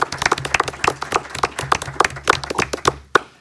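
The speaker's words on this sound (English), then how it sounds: "So maybe we can give a round of applause to our fine school principals." A small audience at a school board meeting claps for the school principals, a steady round of distinct hand claps, moderately close and without talk.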